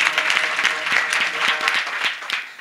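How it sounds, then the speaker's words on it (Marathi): Loud, dense applause from a large audience at a Marathi kirtan devotional gathering, continuous clapping filling the whole stretch without a break. "त्यांच्यासाठी एकदा सर्वांनी जोरात टाळ्या वाजवा।"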